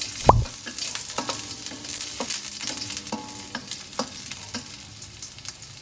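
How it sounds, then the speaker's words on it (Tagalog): Onion sautéing in preheated oil in a pan, a steady close sizzle broken by several sharp scraping stirs and knocks of the utensil, with no talking. "Preheat lang natin ang ating oil before natin ilagay ang ating onion. At saute lang natin ito for at least 30 seconds."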